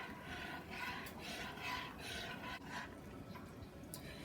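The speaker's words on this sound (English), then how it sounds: "Give it a quick stir so the pasta doesn't stick." A spoon stirring a pound of elbow macaroni in a pot of water, a soft scraping swish repeated in an even rhythm, close and quiet, with no talking.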